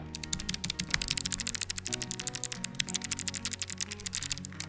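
Rapid clicky keystrokes on a Logitech G913 TKL mechanical keyboard with clicky switches, close and crisp, typed in quick bursts with short pauses, no talking.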